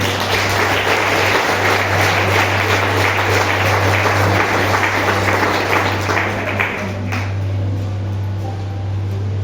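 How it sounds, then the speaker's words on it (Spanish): Church congregation applauding during a Spanish-language sermon, a loud sustained wash of clapping that holds steady for most of the stretch before easing off, over a constant low hum. "Dale un aplauso al Señor."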